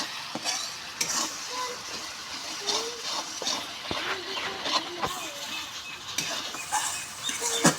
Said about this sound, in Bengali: সুন্দর করে আমি কষে নিচ্ছি দেখুন